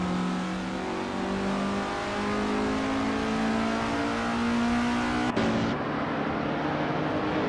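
A 1966 MG MDB-8 race car in a racing video game holds a steady, loud engine drone with rising harmonic pitch as it accelerates, then a sudden break near the end as the tone drops and shifts, likely a gear change or lift-off.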